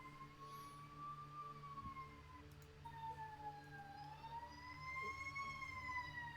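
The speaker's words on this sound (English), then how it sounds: "That's a fire truck now." A fire truck siren wails outside, its rising and falling tone sweeping clearly over a low steady rumble of road traffic, fairly loud and with no voices.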